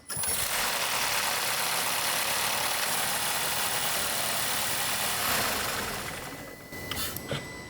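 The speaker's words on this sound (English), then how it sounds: "start the vehicle, let it run for about 45 seconds or so" An Audi engine idling after an oil change, a steady close mechanical hum with ticking texture that continues evenly, then drops off slightly near the end.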